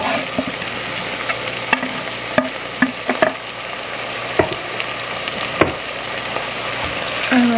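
Chopped peppers sizzle steadily in a hot pan, close and loud, while a utensil scrapes and taps the pan in irregular strokes as they are stirred.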